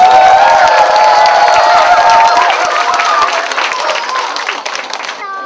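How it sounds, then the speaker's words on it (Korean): Audience applause and cheering for an army military band's performance at a youth festival, a dense, loud wash of clapping with some shouts that holds steady, then thins slightly toward the end. "지금까지 멋진 공연을 보여주신 우리 육군 제31 부평사장 군악대 여러분께 다시 한번 큰 박수 부탁드립니다"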